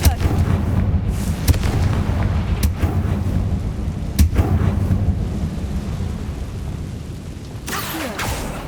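A Confringo blasting spell in Hogwarts Legacy sets off a string of sharp, booming blasts with rumbling low-end decay, several hits landing irregularly over a dense, continuous game soundscape, loud and close.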